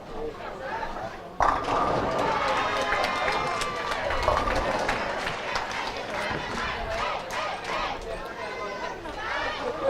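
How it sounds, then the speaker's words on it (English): Swedish spectators cheer and chatter at a youth bowling team championship, a sustained loud crowd roar that swells after a sudden onset and holds throughout, with scattered sharp bangs over it. "Hear the Swedish people cheering."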